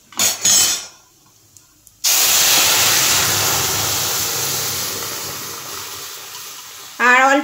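Dal goes into a pressure cooker with hot oil tempered with asafoetida, setting off a loud, close, sustained sizzle that fades gradually. A few brief knocks come before it, and a short noise follows at the end.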